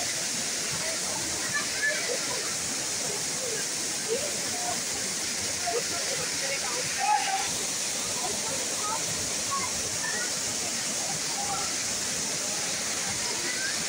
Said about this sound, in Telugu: వాటిలో ఈ సిరిమానే జలపాతం కూడా ఒకటి.